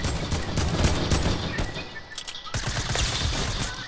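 Rapid automatic gunfire in the Fortnite video game rattles in dense, loud bursts, with a brief gap before another sustained volley.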